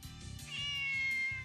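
A cat meows in the Umineko visual novel, one drawn-out, clear cry lasting about a second over soft background music.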